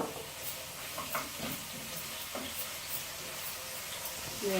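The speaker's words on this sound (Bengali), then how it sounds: "দেখুন তেলটা গরম হওয়ার পরে কিন্তু আমি রসুনটা দিয়েছি।" Chopped garlic sizzling in hot oil in a pan for a radish and fish curry, a steady, fairly quiet hiss with soft crackles and occasional pops, with no one talking.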